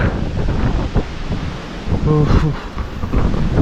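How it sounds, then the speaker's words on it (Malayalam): Strong wind on the Pullumedu route to Sabarimala roars and buffets the microphone in a loud, continuous rumble, with a brief voice heard through it. "ആള് പറന്നു പോകുന്ന രീതിയിലുള്ള കാറ്റാ."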